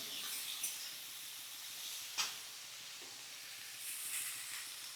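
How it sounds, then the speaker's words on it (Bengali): Cabbage, being cooked down with prawns for a Bengali dish, hisses and sizzles faintly on the stove while being stirred, with soft scraping clicks at intervals. "দেখো বাঁধাকপিগুলোকে আমি এর মধ্যে দিয়ে নাড়তে লাগলাম।"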